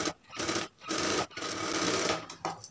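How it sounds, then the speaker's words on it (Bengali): A sewing machine stitches fabric in several short, quick bursts separated by brief stops, close and moderately loud. "এখন এতটুকু সেলাই করে ফেলবেন।"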